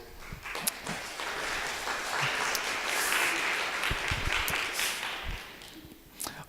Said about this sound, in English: We can clap for our volunteers.